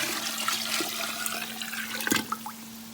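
Cold water from a tap running into a cooking pot in a home kitchen, a steady broadband rush with a faint hum underneath and a brief clatter near the end, no talking.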